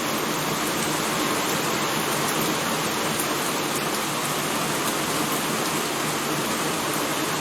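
Steady rain in the Pathfinder: Ruins of Azlant game pours as a dense, even hiss of falling water, loud and unbroken from start to finish with no voices.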